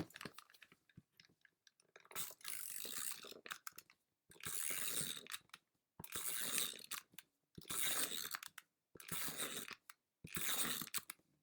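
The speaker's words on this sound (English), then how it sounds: "Let me run the tape runner really quick." A tape runner lays adhesive onto a paper card in six separate close, rasping, ratchety passes, each lasting about a second, with brief quiet gaps between strokes and no talking.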